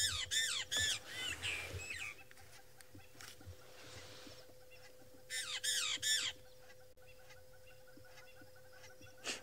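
Burchell's starlings, long-tailed birds on an African safari, give harsh squawking calls in short repeated bursts with quiet gaps, fairly close over a faint steady background hum.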